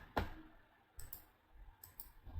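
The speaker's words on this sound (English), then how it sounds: "We have to click on employees" Several sharp mouse clicks ring out close and clear while someone works in QuickBooks Desktop accounting software, spaced irregularly over a quiet room background.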